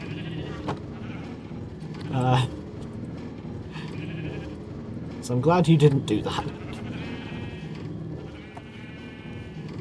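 Sheep bleating on a Minecraft sheep farm, with two louder bursts of overlapping game bleats and fainter ones scattered around them, all under a person talking.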